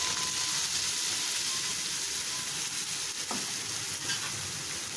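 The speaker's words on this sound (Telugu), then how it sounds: "ఇందులోని నుంచి ఆయిల్ బయటకు వచ్చేంత వరకు సిమ్లో పెట్టి వేయించుకోవాలి" Tomato paste masala frying in oil for a mushroom curry, an even, close sizzle and bubbling hiss throughout with a brief stir clink midway, no speech.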